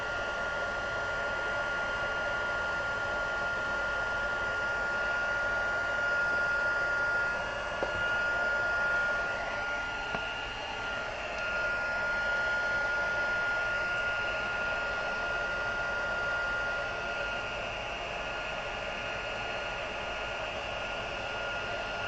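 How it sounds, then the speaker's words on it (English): Steady blowing whir of a heat tool melting embossing powder in a craft room, a continuous fan-like hiss with a faint tonal hum, close and unbroken throughout. "a tip with using your heat tool is you want to make sure that you don't kind of keep the heat set or the tool in one position"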